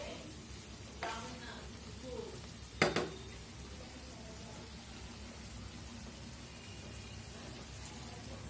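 Vegetables fry quietly in a pan with broth poured in, giving a soft steady sizzle, with a few brief clatters and one sharp splash of liquid hitting the hot pan partway through.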